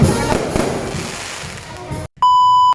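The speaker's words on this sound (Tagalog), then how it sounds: "kitang-kita nyo naman ang mga fireworks" Fireworks burst at a barangay fiesta in Barangay Sambat, San Pascual, Batangas, a loud rumbling crackle of explosions that fades, then a brief silence and a steady electronic beep tone.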